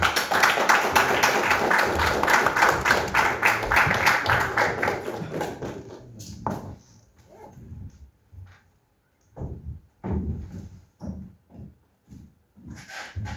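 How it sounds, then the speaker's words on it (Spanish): An audience at a lecture series on the Battle of Arica gives dense applause for about six seconds to welcome a performer's dramatization, then it stops and a single voice speaks in short phrases. "Recibimos con fuertes palmas, por favor"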